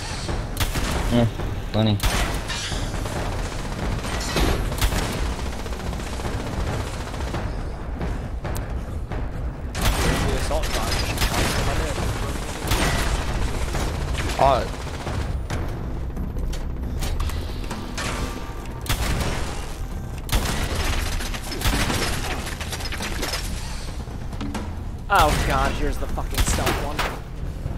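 Pistol fire from Fallout 76 game: repeated sharp shots and bursts spread through the clip, fairly loud against constant background game noise, with a voice talking at times.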